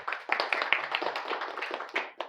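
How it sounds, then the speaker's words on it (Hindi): Audience clapping in a classroom-style gathering, a short burst of scattered hand claps at moderate distance, with no talk over it. "ताली बजाइए आप लोग"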